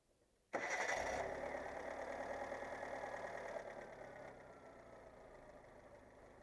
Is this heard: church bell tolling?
no